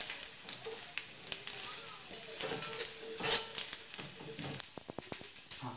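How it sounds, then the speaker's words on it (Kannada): Taro root frying in a pan over a low gas flame, a steady soft sizzle with occasional stirring scrapes and clinks throughout, close by, with faint voice in the background. "ಕೆಸುವಿನ ಗೆಡ್ಡೆ ತುಂಬ ಫ್ರೈ ಆಗ್ತಿದೆ"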